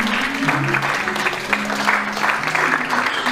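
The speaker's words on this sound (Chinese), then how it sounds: "要掌声大声他们才进，才会入场哦。" Wedding guests in a Singapore hotel ballroom applaud the entering couple, a dense wash of clapping with crowd murmur and faint music tones underneath, steady and fairly loud throughout.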